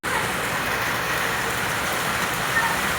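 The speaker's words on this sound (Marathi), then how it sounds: "बाहेर खूप जोरदार पाऊस चालू आहे" Continuous heavy rain pours outside, a dense, even hiss with no pauses or voices.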